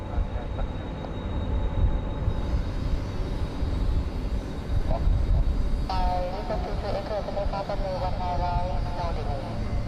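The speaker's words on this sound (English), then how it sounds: "Pacific Airlines just came in from Ho Chi Minh City." A Pacific Airlines Airbus A320 airliner arriving at Bangkok airport, a steady far-off jet engine roar that swells slightly, with someone talking over it throughout.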